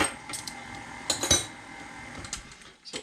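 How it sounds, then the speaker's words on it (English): A small spatula scraping around the sides of a mixing bowl makes a few short scuffs and clinks at close range, separated by quiet gaps, with no talk. "I need to come in here with my little spatula and scrape the sides a bit."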